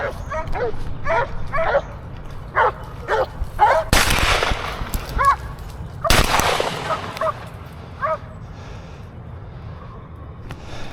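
A pack of boar-hunting dogs barks and yips repeatedly at a moderate distance, and two sharp gunshots ring out in the middle.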